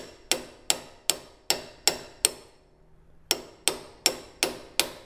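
A hammer driving a socket to seat a bearing on a Toro Z Master 4000 commercial zero-turn mower, sharp metallic blows in a steady rhythm, six strikes, a brief pause, then five more, close and without talk.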